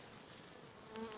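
Honeybees buzzing around a hive at an apiary during the first spring cleansing flight, a steady faint hum of many insects close by, growing slightly louder at the end.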